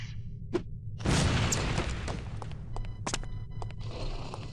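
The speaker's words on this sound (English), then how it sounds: "These relatively inconspicuous-looking lipsticks are actually powerful explosive devices that detonate on impact" A lipstick explosive detonates on impact in the spy video game No One Lives Forever, giving a loud broadband blast that decays into a lingering rumble, with scattered clicks and faint game sounds around it.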